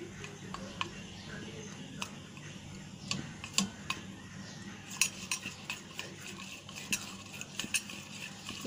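A spoon stirs chocolate melting in a bowl set over steam, giving quiet scraping and light metallic clicks and taps scattered irregularly over a soft background hiss.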